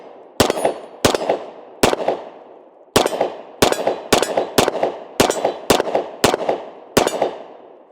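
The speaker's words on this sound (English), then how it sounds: "Let's go ahead and shoot some 115 now." Ten sharp, loud gunshots from a small Kimber CDS9 9mm pistol firing 115 grain rounds outdoors, spaced unevenly about half a second to a second apart, each with a ringing decay.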